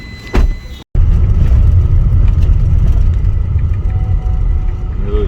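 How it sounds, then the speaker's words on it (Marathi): Car engine idling and running for a road trip in Konkan, a steady low rumble close by after a brief thump and short silence, continuing without speech. "आपण आता इथून गाडी स्टार्ट मारतोय"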